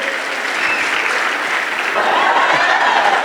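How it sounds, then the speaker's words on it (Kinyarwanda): A crowd at a kick-off training event in Rwanda applauds continuously, a dense, loud, even wash of clapping from start to finish. "Amashyi menshi."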